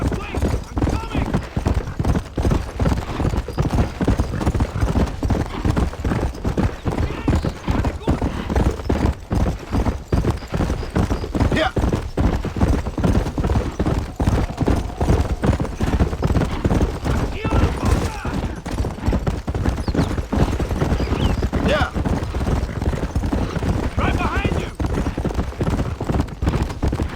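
Horse hooves clopping at a steady riding gait in the video game Red Dead Redemption, a continuous rhythmic beat running throughout at moderate loudness with occasional game sounds in the background.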